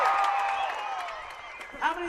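Crowd at a demolition derby in Heber, Utah cheering and applauding, a sustained wash of distant clapping and voices with whistles and shouts rising near the end.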